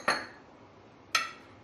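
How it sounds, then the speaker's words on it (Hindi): Spices dropped into a metal vessel make two short, bright metallic clinks about a second apart, close by and otherwise quiet. "सबसे पहले हम सब मसाला एक साथ एक बर्तन में डालेंगे"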